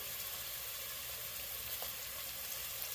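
Garlic and all-purpose flour cooking in a hot pan give off a steady, even sizzle and fry, constant and moderately quiet with no voices.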